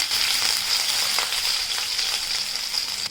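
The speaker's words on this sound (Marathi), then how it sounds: "आपण आता आलं आणि लसूणसुद्धा मस्तपैकी तेलामध्ये परतवून घ्यायचं आहे" Finely chopped ginger and garlic sizzle steadily in hot oil, a loud, continuous bright frying hiss with small crackles and no voices.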